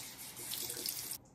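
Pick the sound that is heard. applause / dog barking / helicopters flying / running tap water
running tap water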